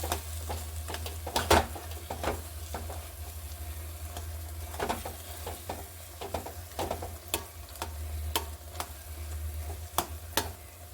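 Payasam being mashed and stirred in a pan, soft scraping strokes and sharp ladle taps against the pan repeating irregularly over a low steady hum.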